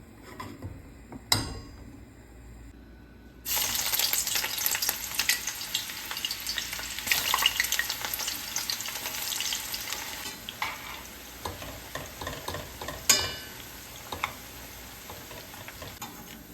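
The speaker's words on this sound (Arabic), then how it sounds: "اذا استوت معكم المكرونه اضيفوا لها زيت وقلبوها عشان ما تلزق معاكم" Cooked pasta for kushari is stirred with oil in a hot pan, giving a steady, close frying sizzle with scraping and clicking stirring strokes that continues for over ten seconds before easing off, without speech.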